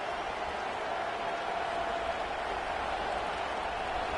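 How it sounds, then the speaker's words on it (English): A stadium crowd roars at an Ole Miss vs Georgia college football game, forcing a false start. The roar is a loud, dense, sustained wash of cheering that continues without letup. "And with this place rocking, the crowd forces a false start"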